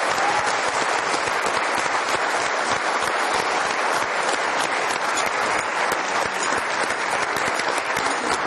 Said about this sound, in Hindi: आप सबकी तालियों में